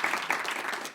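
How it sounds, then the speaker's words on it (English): Brief applause from the audience of a public lecture, a short burst of scattered clapping at a moderate level lasting about a second. "So maybe another round of applause for Professor KAO."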